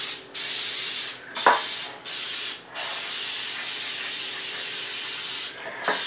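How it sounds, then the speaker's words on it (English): Cooking spray hisses from a can into a 9x13 baking pan in a home kitchen, several steady bursts separated by brief pauses, close and fairly loud. "We're going to spray it down really good."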